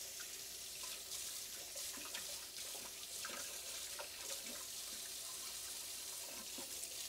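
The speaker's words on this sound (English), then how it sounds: "I'm just going to give these a quick rinse back here" Scallions rinsed under a running kitchen tap, a faint, continuous splash of water with small irregular spatters as the stalks move under the stream, no speech.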